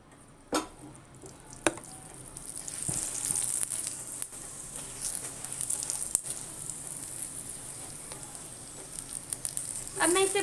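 Oil sizzles under a stuffed aloo paratha frying on a pan, a close hissing crackle with a handful of sharp taps and a louder burst of spitting near the end.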